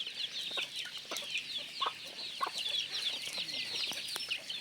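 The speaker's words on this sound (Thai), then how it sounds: "โอ้ม่วนเนาะมีเป็ดมีไก่อยู่นำน่ะ" Chickens cluck in a rural village yard where ducks are also kept, giving a run of short, repeated clucks at moderate distance and fairly low level, with no speech.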